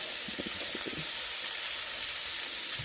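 About a pound of ribeye steak, cut into chunks, sizzles in a hot pan with a loud, steady broadband hiss, a few soft pops and scrapes near the start.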